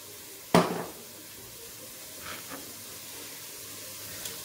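Oil poured into a 5-litre, 24 cm pot over half-softened onion gives one sharp, loud sizzling hiss that fades within half a second, followed by faint crackles and soft stirring.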